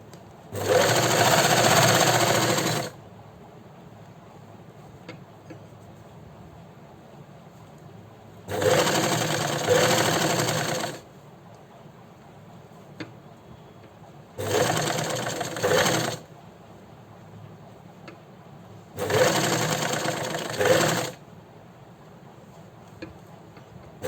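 A sewing machine stitches a piping seam in four separate bursts of about two seconds each, loud and close, with quiet pauses between them.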